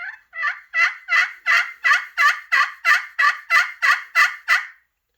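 A hand-operated turkey hunting call yelps about a dozen times in a steady, even rhythm, loud and close, then stops.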